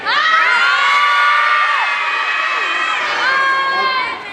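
Loud crowd of children shouting and cheering together at a school Children's Day celebration, a sustained chorus of high voices rising and falling continuously.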